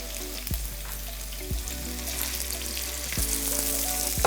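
Greens and noodles for pad see ew fry in a wok with a steady, even sizzle, broken by a few sharp clanks of a utensil against the pan.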